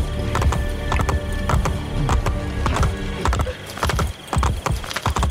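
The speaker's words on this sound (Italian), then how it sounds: "magari rubiamo anche un cavallo, almeno facciamo prima" Horse hooves gallop in the video game Assassin's Creed Brotherhood, set in Rome, a fast, steady clip-clop rhythm running throughout, close and fairly loud with no talk over it.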